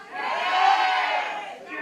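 A wrestling crowd at a contenders match roars and cheers in a loud, sustained swell that peaks and then eases off slightly, with many voices blending together.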